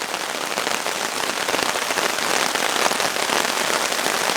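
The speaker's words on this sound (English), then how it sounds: "It is coming down now." A downpour hammers a tarp shelter in the woods after dark, giving a close, steady hiss of countless drops that swells a little toward the end.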